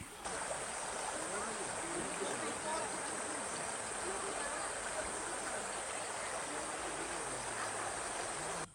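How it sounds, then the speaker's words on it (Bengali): A river flows at Lulung in Simlipal, making a steady, dense rush of water that stays constant and fairly close throughout, with no other sounds standing out. "এই জায়গাটা নদীটা ফ্লো করছে, এখানে বেশ ভালো লাগছে এই আওয়াজটার জন্য"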